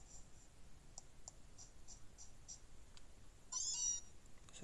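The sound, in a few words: Meowth Pokémon cry in Pokémon Ultra Moon video game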